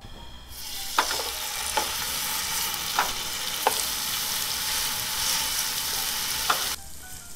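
Cooking oil, about a teaspoon, sizzles steadily in a frying pan over medium-low heat, a continuous loud hiss with a few faint pops and crackles, no talking.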